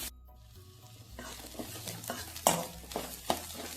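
Two hundred grams of chopped small onions sauté in a hot pan for a bitter gourd curry, giving a steady sizzle broken by close stirring scrapes and a few sharp utensil clinks against the pan, with no talking.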